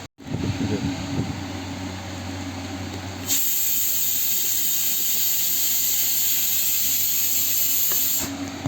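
A kitchen pressure cooker lets out steam in a steady, loud hiss that swells sharply partway through and holds strong until it cuts off near the end, with no talking over it.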